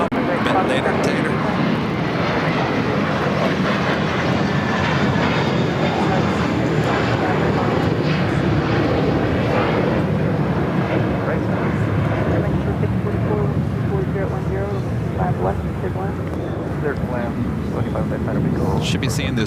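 A steady, loud roar of an Airbus A380 jet engine at LAX, with dense broadband rumble and wind buffeting on the microphone throughout and no break.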